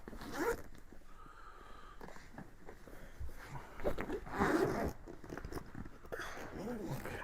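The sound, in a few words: zipper being unzipped on a bag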